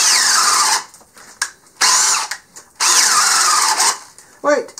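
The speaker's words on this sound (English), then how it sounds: "2 pressure-treated 2x4s with a 1 1/8-inch speed bit" Hart brushless drill with a 1 1/8-inch speed bit bores into two stacked pressure-treated 2x4s, loud whining bursts that cut out and restart several times, with short pauses between.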